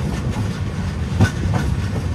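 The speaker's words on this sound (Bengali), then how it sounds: "তিরোড়া স্টেশন ঢুকছে" The Vidarbha Express rolls into Tirora station with a steady rumble and a faint clickety-clack of wheels over the rails, heard from on board. No voices.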